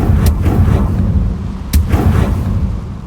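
Two sharp, booming blasts from the Confringo fire spell in Hogwarts Legacy, the first early and the second about a second and a half later, each trailing off into a low rumble.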